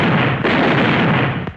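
A firecracker bursts with a loud, close blast, followed by a rumbling tail and a second sharp pop just before the end.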